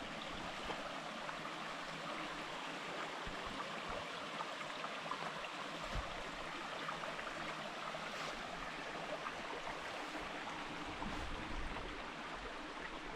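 A small brook flows along a forest hiking loop in autumn, a steady, even wash of running water that stays constant and fairly soft throughout.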